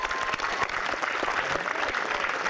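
Graduation ceremony audience at UCSB in 1997 applauds staff and alumni, a dense burst of many hands clapping in a large venue, steady and sustained for the brief stretch without speech.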